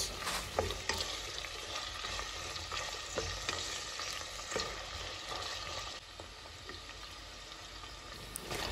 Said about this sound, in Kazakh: Үстіне алдын ала турап қойған жуанды, одан кейін бір шай қасық томат пастасын салып, жақсылап араластырып аламыз да, қызарғанша қуырамыз.